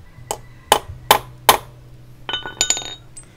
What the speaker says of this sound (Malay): Sekali kita kena ketuk depan ni bagi dia gegar sikit.